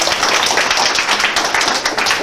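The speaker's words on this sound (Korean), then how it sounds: "박수 드리겠습니다." An audience at a Korean motivational lecture show breaks into loud, dense applause, a steady wash of many hands clapping close by with no talk over it.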